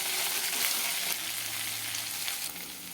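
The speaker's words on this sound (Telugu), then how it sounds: "తర్వాత ఇందులో మనం బెండకాయలు వేసుకుందామండి. ఒకసారి ఇదంతా కలిపేసుకోండి." Okra is tipped into a pan with cumin seeds and stirred while frying, giving a dense, loud sizzle with a few soft scrapes and knocks, easing slightly toward the end, no voices.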